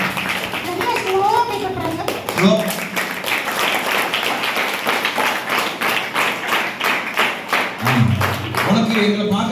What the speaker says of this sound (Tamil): பேர் சொன்னா கை தட்டுங்க.